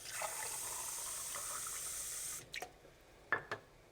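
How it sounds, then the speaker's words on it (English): Plain water is poured into sauerkraut sizzling in a pan, giving a soft, steady hiss for about two seconds, then several quiet, distinct drips follow close by. "We'll add water"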